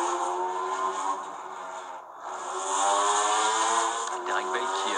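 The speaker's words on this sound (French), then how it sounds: "Ici, nous sommes avec la Corvette Callaway de Jelinski, Hanser et Bertagia." Corvette Callaway race car at the 1995 Le Mans 24 Hours, its engine a steady high-pitched buzzing drone with a brief dip, heard under a commentator talking throughout.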